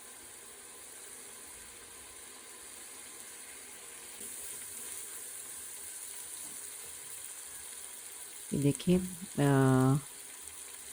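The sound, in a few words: beef karahi frying in a pan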